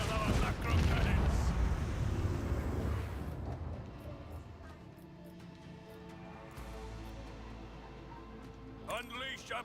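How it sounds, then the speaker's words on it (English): Macro cannon barrages fire in Rogue Trader, a dense roll of heavy booming blasts and rumbling explosions that fades into lower rumble, with a voice speaking later. "Show them the fury of our macro cannons!"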